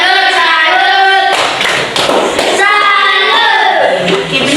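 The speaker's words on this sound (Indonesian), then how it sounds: "tepuk salut dulu untuk Farel" A primary school class chants and claps a rhythmic 'tepuk salut' praise cheer for a pupil named Farel, with voices chanting loudly over bursts of close, irregular hand claps.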